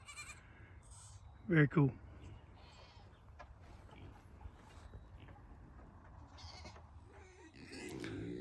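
Goats bleat twice in a quick pair at a three-story goat tower, fairly close and loud over faint outdoor background, with a person speaking briefly afterward.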